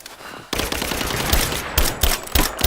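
Rapid bursts of automatic gunfire in the video game Rise of the Tomb Raider, loud and dense after a quiet start, with sharp individual shots punctuating the barrage.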